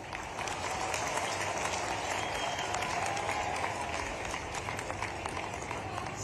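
Audience applause at a political rally in Shujalpur, Shajapur district, a steady dense wash of clapping from a large crowd lasting throughout, fairly distant and even.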